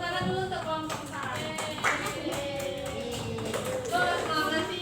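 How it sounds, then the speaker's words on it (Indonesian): Students in a classroom clap together for a group, a rapid patter of many hands mixed with children's voices and chatter throughout. "Tepuk tangan dulu untuk kelompok 4."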